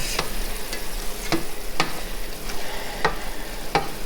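Ground beef sizzling and frying in a pan for dirty rice, a soft steady crackle broken by periodic sharp scrapes of stirring, close up with no talk.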